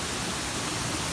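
Continuous heavy roar of the Demodara Ella waterfall, dense and constant falling water close by, filling the whole moment without any voices.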